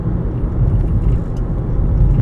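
A 2005 Mercedes-Benz C320 on a test drive gives a steady, close low rumble of engine and road noise that stays even throughout, with no talking.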